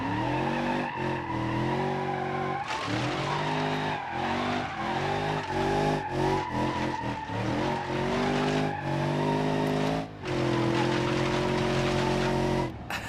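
Stock dirt car in BeamNG.Drive with a rowdy engine revving hard through repeated gear changes, its tires skidding and squealing, loud and close throughout.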